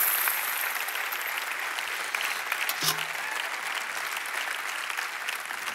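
Steady audience applause fills the hall at a sermon-style gathering on recovery and faith, a dense wash of hand clapping that holds at an even level throughout.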